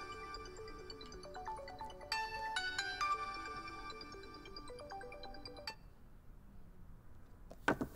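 A phone ringtone plays a steady melodic tune of bright electronic tones during a family breakfast at home, stopping suddenly partway through and followed by a brief clatter.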